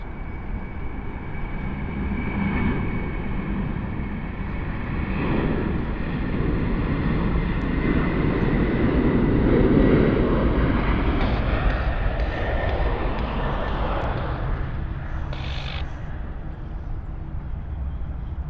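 Aircraft at Sydney Airport pass by on the runway, a broad engine roar that swells to a peak midway and slowly fades, with faint higher whines late on and no voices.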